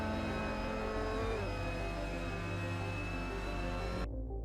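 A Mazda MX-5 Cup car engine in Assetto Corsa, racing at Autodrom Most, holds a steady, loud, close drone with slight rises in pitch, then cuts off abruptly near the end.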